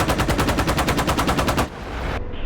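An Apache attack helicopter's gun fires one long rapid burst of evenly spaced heavy rounds at a target, loud and close, then cuts off abruptly into rumbling background.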